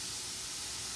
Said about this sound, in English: I can hear that onion sizzling away